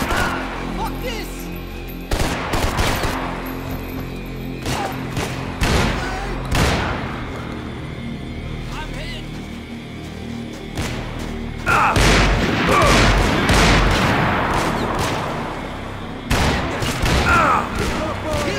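Gunfire in the video game Max Payne 3, with bursts of shots and heavy booms scattered through a tense firefight, loud and close, while voices talk and shout over the shooting.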